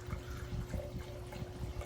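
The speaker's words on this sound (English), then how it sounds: "So let me pour a little bit of that for you." Portuguese white wine blend poured into a glass, a soft, close, steady liquid trickle lasting a couple of seconds, quiet and alone with no talking.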